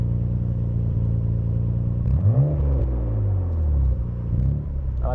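A 1991 Nissan Skyline GT-R engine running while driving, a steady, quiet, subdued low hum and rumble that rises briefly as the car accelerates, heard from inside the cabin with no talk.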